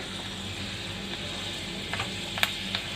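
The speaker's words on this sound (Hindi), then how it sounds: "अब इस गरम तेल में हम ये मेथी दाने डालेंगे" Fenugreek seeds sizzling in hot oil in a pan, a steady close crackle with a few sharper pops near the end.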